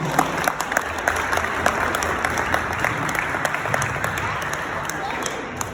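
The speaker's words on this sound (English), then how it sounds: "Round of applause." Wedding guests at a reception applaud during the best man's speech, a full room of steady clapping with scattered sharper claps standing out.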